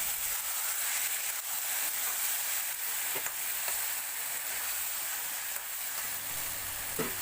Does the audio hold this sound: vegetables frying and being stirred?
yes